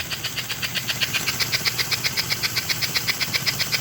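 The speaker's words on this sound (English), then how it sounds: "That is one heck of an engine right now. It's a chugger." An American Flyer 302 Atlantic S-gauge model steam locomotive runs alone with a fast, regular chugging beat of hissy puffs that stays close and steady.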